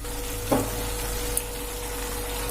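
Vegetables and coconut paste for aviyal being stirred in a pan: a low, steady hiss with one short scrape of the spoon near the start and a faint click later.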